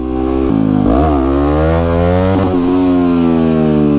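Supermoto motorcycle engine revving hard in first gear during a wheelie, loud and close, rising in pitch, dipping and climbing again as the rider works the throttle.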